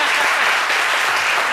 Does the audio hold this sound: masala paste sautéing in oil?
no